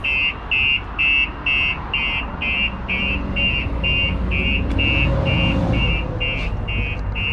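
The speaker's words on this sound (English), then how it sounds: "the alarm goes off." A 2019 Volkswagen Crafter van's Starline S96 anti-theft alarm blares in a rapid pulsing electronic beep, loud and close, over low engine-like rumble and background noise.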